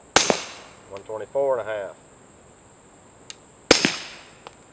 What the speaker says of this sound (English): 9mm subsonic, 147 grain ammunition.